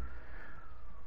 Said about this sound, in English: I don't know if you can hear the ambulances outside at the back.